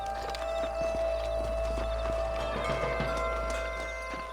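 Horses clip-clopping with hooves in a steady rhythm, moving at close range in the Western video game Red Dead Redemption, with a continuous ambient hum underneath.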